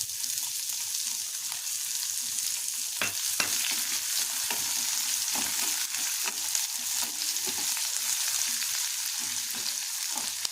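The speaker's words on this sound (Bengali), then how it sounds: "এবার আমি পেঁয়াজটা দিয়ে দেবো।" Sliced onions fry in hot oil with curry leaves and black cumin, a continuous sizzle broken by repeated scraping and stirring strokes of a spatula in the pan, close and steady, no speech.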